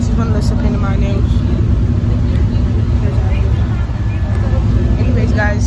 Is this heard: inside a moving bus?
yes